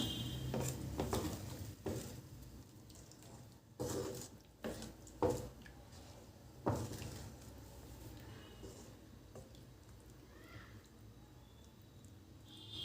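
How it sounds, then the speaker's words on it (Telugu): Prawn curry being stirred in a pot, the spoon giving a few soft scrapes and light knocks against the metal at irregular moments amid quiet kitchen background, with no talking. "ఒకసారి కలుపుకుందాం."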